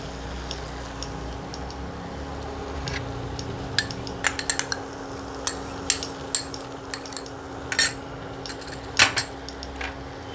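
Spinach kofta curry frying in a pan while a utensil stirs and scrapes, with soft sizzling under sharp clinks of metal against the pan at an irregular pace.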